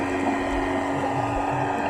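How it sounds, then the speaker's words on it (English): A continuous droning motor hum with a steady tonal whine, muffled and even: a boat engine passing overhead, heard from underwater while diving off Gili Meno. "Look, there's a boat going above us."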